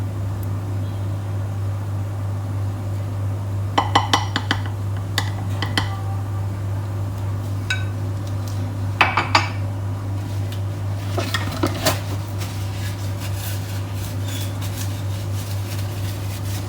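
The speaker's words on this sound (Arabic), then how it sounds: "ننزل كده بالسباتولا كل الخليط اللي عندي." A spatula scrapes chocolate lava cake batter around a bowl in a few scattered clinking strokes, set against a constant low mechanical hum.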